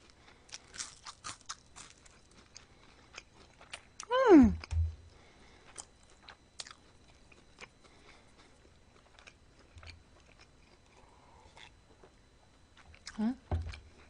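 Crisp toasted white bread is bitten and chewed close to the mic, with one loud crunchy bite in the middle and a softer crunch near the end, amid quiet mouth noises and faint background sounds.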